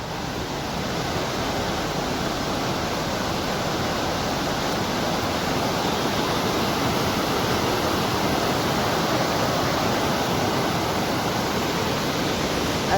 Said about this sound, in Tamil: அதில் நீர்வீழ்ச்சி இருக்குது.